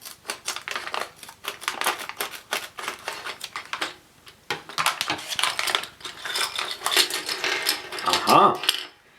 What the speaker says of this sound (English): Cut along the dotted line with a pair of scissors.